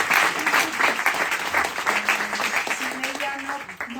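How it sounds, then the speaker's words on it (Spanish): An audience at a bookstore event celebrating Eduardo Mendoza breaks into sustained, dense applause that fills the room, with a voice speaking over the clapping. "otro gran aplauso"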